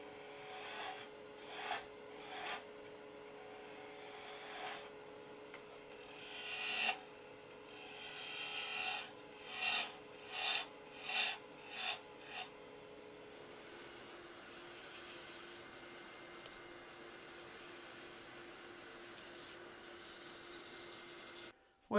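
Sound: wood turning on a lathe with a spindle roughing gouge

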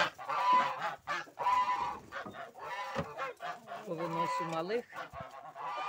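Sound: geese honking as poultry are let out in the morning

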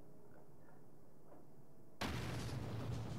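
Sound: big explosion in the video game Ninjala

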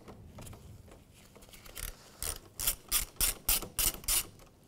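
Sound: ratchet with 10 millimeter socket loosening battery terminal

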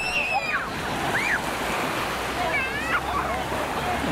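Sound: sea waves on a beach in Alanya, Turkey

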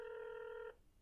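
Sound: telephone ringing

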